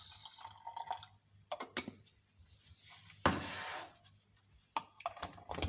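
Diluted commercial sodium hypochlorite bleach is poured into a container at a tissue culture lab bench; scattered drips and splashes with one louder gush of pouring, close and fairly quiet, with no talking.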